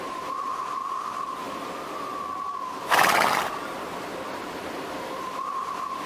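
A horse in a stable neighs in one short, loud whinny burst midway through, set against a steady tonal hum and a low background wash.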